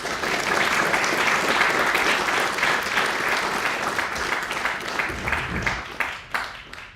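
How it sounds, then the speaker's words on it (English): An audience applauds a mayor at a scholars' event for the 5000 Role Models program, giving loud, dense, sustained clapping that thins into scattered claps and fades near the end. "just give Mayor Benjamin a big round of applause"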